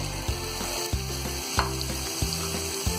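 Peas tipped into potatoes already frying in a pan give a steady sizzle, with a regular series of knocking stirs from a spoon scraping the pan roughly every half second; no voices.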